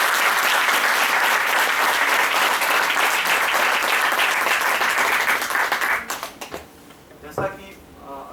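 An audience claps warmly to welcome a speaker at a Hindi Pakhwada event marking Azadi ka Amrit Mahotsav. Dense, steady applause fills the room for about six seconds, then breaks off, leaving a few scattered claps and faint room noise.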